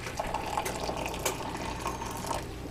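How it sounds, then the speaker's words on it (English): Boiling water poured from a kettle into a dish while making homemade marbled Velveeta: a steady, close, continuous splashing stream with no talking. "I'm going to put 1 cup of boiling water in here."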